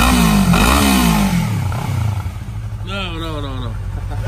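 A Honda Hornet two-cylinder motorcycle engine revs loudly up and down in rising and falling sweeps, with people talking over it close by.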